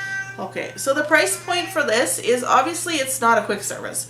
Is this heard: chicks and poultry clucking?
no